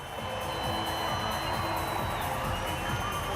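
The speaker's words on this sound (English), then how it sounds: "the crowd is going absolutely off" A crowd at a BMX and mountain bike freestyle event in Berlin cheers and shouts steadily, a dense sustained roar with some high children's voices mixed in.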